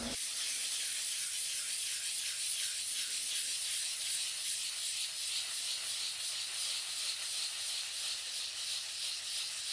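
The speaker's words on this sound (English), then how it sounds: "now I will sand it very lightly with 400 grit sandpaper" Steady, soft hissing rub of 400-grit sandpaper lightly sanding a wooden gavel and block, moving back and forth in a gentle, even rhythm, close and continuous with no talking.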